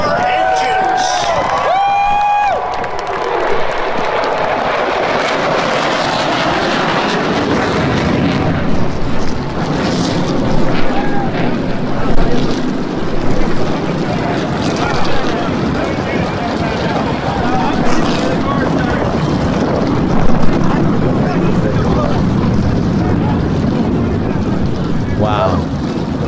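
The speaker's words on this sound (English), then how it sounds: "Gentlemen, start your engines." Race car engines start up at Daytona International Speedway, building into a dense, loud roar mixed with crowd noise and wind buffeting, after a brief voice at the start.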